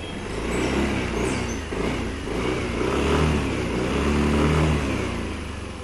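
A Yamaha Nmax scooter engine starts and then idles close by, a steady mid-pitched motor hum with slight swells in revs, no voices over it.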